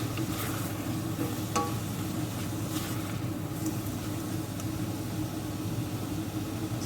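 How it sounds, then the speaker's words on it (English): Onion and leek sweat over low heat in a pan, a constant soft sizzle with a low hum underneath and occasional faint stirring clinks. "give it a stir now and again, make sure it's on a low heat and just let the onion and the leek sweat down"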